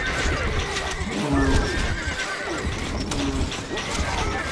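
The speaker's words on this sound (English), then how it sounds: "الفرس تعدو. خيولنا جاهزة. الحصان سريع." Horses neigh and whinny loudly with galloping hoofbeats in the medieval strategy game Stronghold Crusader, a few repeated whinnies over busy game sound effects.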